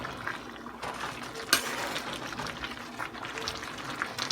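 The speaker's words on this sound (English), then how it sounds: "We're going to stir it." A spoon stirs pumpkin soup cooking in a pot, giving soft liquid sloshing and a low simmering bubble, with one sharp clink of the utensil against the pot.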